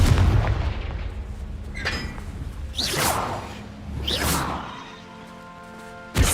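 Confringo fire spell explosions in Hogwarts Legacy: several booming blasts with whooshing bursts, each swelling and rolling off, loud and close, with a final thump at the end.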